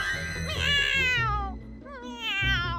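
A cartoon cat character meows in a string of drawn-out, rising and falling calls, close and clear with short gaps. A performer's voice imitates the cat.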